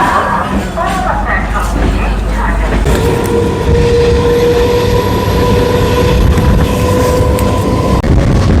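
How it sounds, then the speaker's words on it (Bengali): A passenger train runs along the tracks near Howrah on a morning journey, with loud, continuous rumble and clatter, a sustained wheel squeal joining partway through, and voices over the noise. "এখন ট্রেনে এসে হাজির, এরপর ট্রেন জার্নিটা শুরু হবে"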